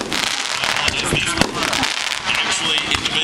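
A fireworks mine combined with artillery shells: dense crackling bursts and sharp pops overlapping continuously at a moderate distance, with a few louder booms mixed in.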